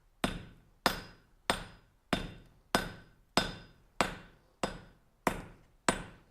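Treadle hammer forging a metal taper: ten evenly spaced heavy blows, each a sharp ringing strike with a short decay, close and loud with no talking between them.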